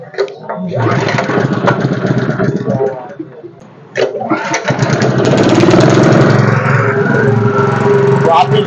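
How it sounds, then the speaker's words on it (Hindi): A Honda WB30XD petrol water pump engine turns over in a first rough burst, pauses, then catches and runs loudly and steadily up close. "उसके बाद ही आपको पेट्रोल फिल करके इंजन स्टार्ट करने का रहता है।"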